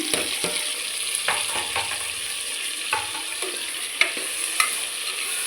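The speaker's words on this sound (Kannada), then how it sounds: "ಹೆಚ್ಚಿಟ್ಕೊಂಡಂಥ ತರಕಾರಿಗಳನ್ನೆಲ್ಲ ಹಾಕ್ಕೊಂಡ್ಬಿಡೋಣ" Chopped tomato, potato, carrot and beans sizzle steadily in a hot pan for rice bath, with repeated scraping strokes of a spoon stirring them through the oil, close and fairly loud, no talking.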